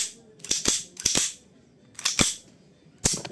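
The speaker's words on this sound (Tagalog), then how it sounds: "So, firing." A Tokyo Marui Hi-Capa gas blowback airsoft pistol fired without BBs in a metal budget build, sharp loud cracks in quick pairs and a single, each with a hissing gas tail, close by.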